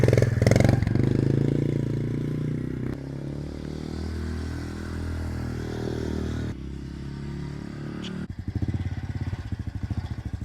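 A 2021 Honda CRF110F 110cc auto-clutch dirt bike rides off, its small engine droning steadily and fairly loud, with revs shifting and a sharper, pulsing note near the end.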